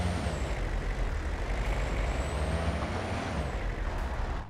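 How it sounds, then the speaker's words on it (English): A video game car's engine makes a steady, loud drone with a high thin whine sliding above it, continuous throughout with no talking. "I will actually reduce the sound of the car."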